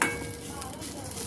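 Garlic sizzles and is stirred in a hot wok while being roasted for a ground spice paste. The sizzle is soft and continuous over a very short stretch, and no voice is heard.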